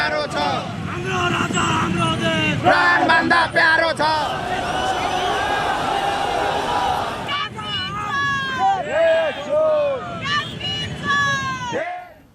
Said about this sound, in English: The huge crowd, as you saw, chanted slogans